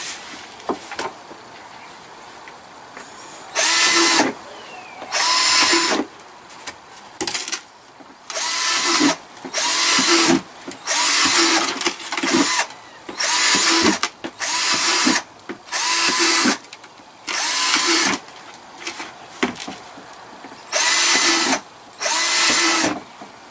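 A power drill bores breather holes into a plastic worm bin in a series of short loud whirring bursts, each a few seconds long and separated by quiet gaps, close up.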